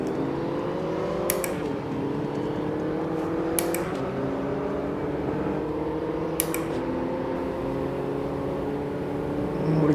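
A Mini Cooper JCW Street engine in a sim racing game, a steady high whining drone that climbs in pitch and drops sharply at three gear changes, each shift marked by a brief click.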